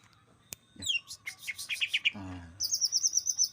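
A small tame pet bird chirps and whistles close by in a rapid series of bright, varied notes, ending with quick repeated high trills.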